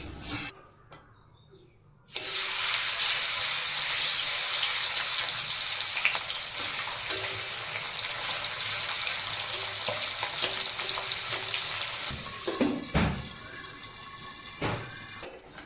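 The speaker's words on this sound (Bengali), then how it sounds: "কড়াইতে তেল দিয়ে দিলাম এখন মাছগুলো ভেজে নেব" Tangra fish drop into hot oil in a wok and a loud, dense sizzle bursts in at once, holding steady before easing slightly near the end, with a few clinks of utensils.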